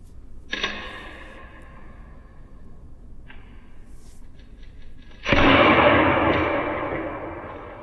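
A resin test sample bursts under load in a workshop press test, a sudden loud crack and rushing blast that slowly fades, preceded by a sharp snap and faint creaking.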